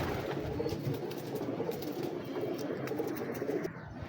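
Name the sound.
pigeons cooing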